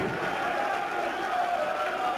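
Crowd noise at the PDC European Darts Open 2014 second-round match between Stephen Bunting and Jamie Caven: a steady, fairly loud murmur of the arena audience with a continuous indistinct hubbub and no distinct cheers.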